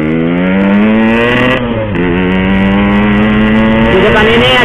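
A group of Yamaha RX King motorcycles rev hard close by, a loud, buzzing engine roar that climbs and falls in pitch, with a brief dip midway before the revving surges again.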